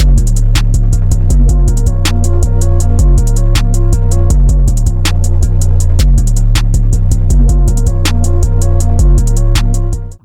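Trap beat built on 808 drums: steady crisp hi-hats and snappy snares over deep, sliding 808 bass and a melodic loop, loud and dense throughout before cutting off at the end.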